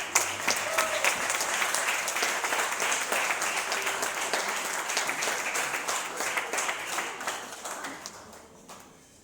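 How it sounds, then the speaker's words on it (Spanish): Sustained applause from a large audience, dense steady clapping that continues for several seconds before tapering off at the end. "el licenciado Gustavo Bonilla, a quien recibimos con un caluroso aplauso."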